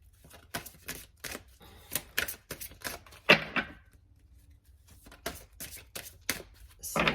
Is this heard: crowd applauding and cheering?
no